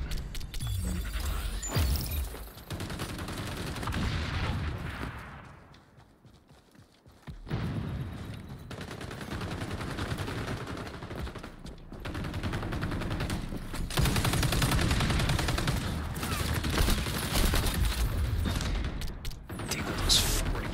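Gunfire in a gunfight in the video game XDefiant: rapid bursts of automatic fire and single shots, loud and close, with a brief lull before the shooting resumes heavily.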